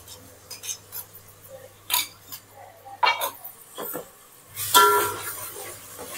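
Green chilli paste going into hot oil in a pan and being stirred: scattered clinks and scrapes of a spoon against the pan, with a louder burst of sizzling toward the end and a low hum underneath.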